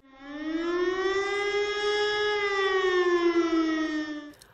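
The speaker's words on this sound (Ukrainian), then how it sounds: "Громадяни, повітряна тривога, повітряна тривога." A civil defense air raid siren wails in Ternopil, one steady rising-and-falling tone that swells in, holds loud and clear for several seconds, then drops away, with no voices.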